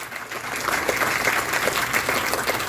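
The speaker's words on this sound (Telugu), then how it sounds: "గట్టిగా చప్పట్లు కొట్టే మీరు టీచర్స్ అందరికీ" Audience in a hall clapping loudly and steadily for teachers at a school celebration, a dense continuous round of applause that swells slightly and holds without any voices.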